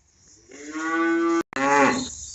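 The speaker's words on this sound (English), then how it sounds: "Cows are getting a little anxious here" Two loud, close cow moos from cattle anxious for feeding, each a long drawn-out lowing call, separated by a brief break.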